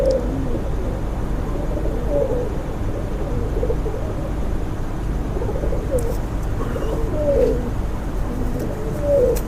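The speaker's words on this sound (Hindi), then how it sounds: "क्लीच में पड़े हैं कबूतर मेरे सारे" Pigeons coo in low, repeated bursts over a constant background hum.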